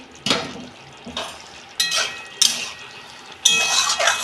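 A pot lid comes off a simmering soybean and kohlrabi curry, with scattered metal clanks and scrapes of utensils against the pan in several short bursts, then a light sizzle.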